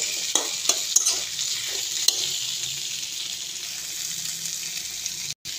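Leg pieces of meat fry in a pan with papaya, giving a constant sizzle and a few sharp utensil knocks from stirring early on, then a brief drop to silence near the end.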